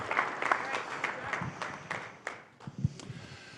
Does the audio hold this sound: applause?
yes